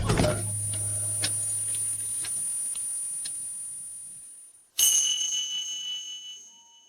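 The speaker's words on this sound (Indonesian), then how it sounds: "apa kalian dengar bunyi lonceng ini?" A bell rings with a bright, sustained tone that gradually fades, cuts out abruptly, and is followed by a second loud strike that decays again. No one speaks.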